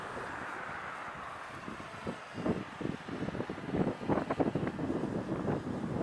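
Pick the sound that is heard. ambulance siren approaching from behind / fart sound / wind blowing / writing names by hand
wind blowing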